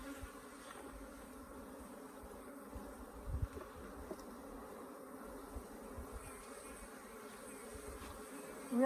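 Africanized hybrid honey bees drone at an open hive in Southern Arizona, a constant, close, even buzz of many insects with occasional faint knocks and a sharper rise at the very end.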